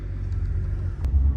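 A car pulling away on a forest trip, a low steady engine rumble near and continuous, swelling slightly louder at the end with no talk.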